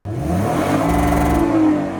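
The 2.5-liter V6 of a 2006 Lexus IS250 is revved up close, the engine note rising and holding smooth and loud for a couple of seconds before easing back slightly.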